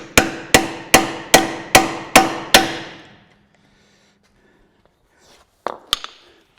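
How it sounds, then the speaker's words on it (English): Seven sharp, evenly spaced metal hammer blows driving a 12-point socket on an extension onto a nut on an 80-series Land Cruiser, close and ringing, then silence and a couple of faint clanks. "I'm going to line it up with that, and I'm going to just hammer that thing on there."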